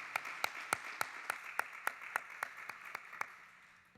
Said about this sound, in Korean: 다시 한번 우리 모두를 축복하며 격려의 박수하겠습니다.